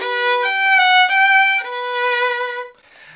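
A solo violin plays a short melodic phrase from Attack on Titan, with several clear sustained bowed notes that change pitch, up close and alone, before the sound cuts off.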